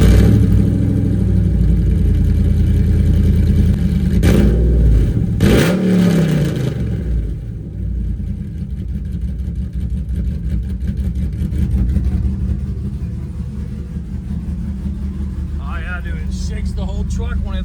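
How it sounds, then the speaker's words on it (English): A RAM 1500 pickup engine running through open headers with an electric exhaust cutout, a loud, rough low rumble that idles close by, with a couple of sharp revving bursts early on, and voices talking over it. "I want to hear it," and I do too. So let's start her up."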